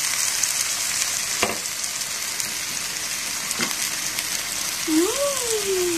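Bean sprouts frying in a pan as water is poured in, a loud steady sizzle and crackle with a couple of sharp clinks of a utensil and a brief high squeak near the end.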